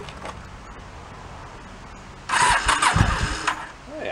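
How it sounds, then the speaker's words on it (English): A motorcycle engine primed with starting fluid cranks quietly for a couple of seconds, then fires and catches into a loud, rough running burst close by. "Give that a crank and see if she'll fire."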